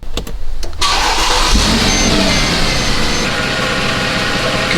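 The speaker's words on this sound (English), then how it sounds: "I'm going to start the car up now" A Mercedes W164 ML63 fires up after a few faint clicks, the engine catching with a burst and settling into a steady, loud idle with a broad rumble.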